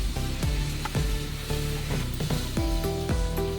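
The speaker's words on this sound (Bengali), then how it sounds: "এবার এই আদা রসুন পেস্টটাও আমি পেঁয়াজের সঙ্গে আরও কিছুক্ষণ ভেজে নেব।" Onion, ginger-garlic paste and tomato paste frying in a pan for soya tikka masala, a steady close sizzle with repeated scraping and stirring strokes throughout, no voices.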